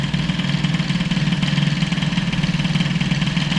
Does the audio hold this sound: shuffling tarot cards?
no